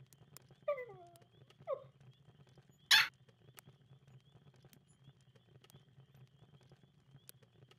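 Two short high yelps from a dog in the Nintendogs + Cats video game, followed by a loud sharp tap against a quiet, low electronic hum.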